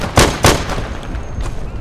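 Two sharp gunshots crack in quick succession in the video game Day of Infamy, close and loud, followed by a lingering echoing tail and fainter distant firing.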